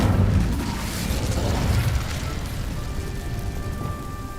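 Incendio fire spell cast in Hogwarts Legacy, opening with a loud explosive burst and rolling into a rumbling, crackling roar of flame that fades slowly over a few seconds, with no voices.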